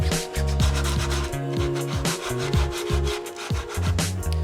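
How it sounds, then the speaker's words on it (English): A PETG 3D-printed Mandalorian helmet is rubbed with 220-grit sandpaper in continuous back-and-forth strokes, a close, steady scratchy rasp with an even rhythm. "I'm just generally trying to smooth out as much as I can with this 220 grit"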